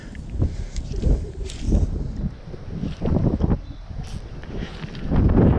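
A sudden gust of wind buffets the microphone beside trout fishing water, rumbling in uneven bursts that rise and fall with rustling, and the loudest push comes near the end.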